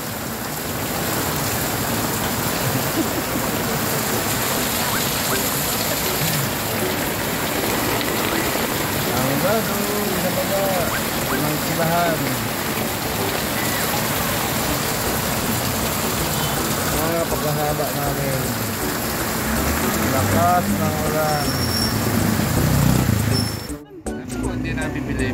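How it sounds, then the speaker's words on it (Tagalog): Heavy tropical downpour drums steadily and loudly throughout, a dense broadband roar with people talking underneath, ending in a brief burst of handling noise near the end. "napakalakas po ng ulan."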